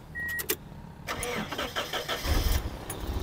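A Toyota Hiace van running on petrol cranks and fires up, then settles into a mid-pitched engine idle with a few short clicks and knocks around it.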